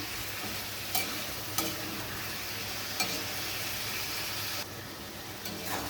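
Sliced onion tossed with chicken in a hot pan gives a constant loud sizzle, with a few sharp scrapes and knocks of the stirring utensil against the pan, close up and with no talking.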